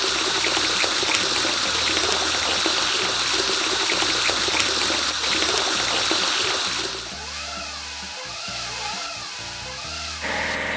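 Water spray hosing down a ship in a kids' island-building game, a steady loud rushing gush that runs continuously, then shifts to a lower, bubblier stream partway through.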